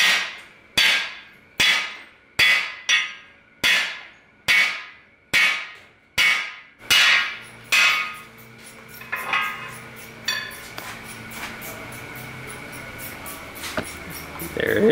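About nine sharp, evenly spaced metallic hammer strikes ring out as cam bearings are driven into an engine block, each blow decaying quickly; the blows stop and quieter shop clatter and faint talk follow.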